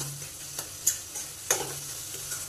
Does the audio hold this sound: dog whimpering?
no